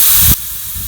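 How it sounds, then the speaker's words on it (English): Air hisses loudly out of a tire as it is let down, a steady close rush that cuts off sharply after about a third of a second and leaves a fainter hiss trailing behind. "I'm gonna let some air out of this tire"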